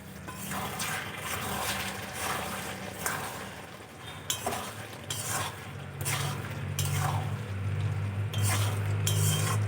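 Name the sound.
stirring ghee and garam masala into fig curry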